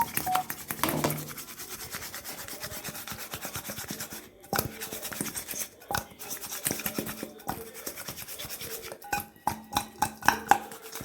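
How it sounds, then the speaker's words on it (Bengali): A hand rubs and mixes small fish pieces with turmeric and salt, giving a steady wet rasping and squelching close by, broken by brief pauses and ending in a few louder, sharper slaps, with no talk. "তো হলুদ লবণ দিয়ে ভালো করে মেখে নিয়েছি"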